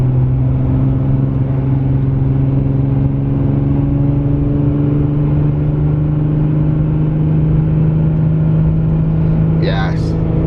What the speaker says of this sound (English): All right, so now let's accelerate up to 55 here.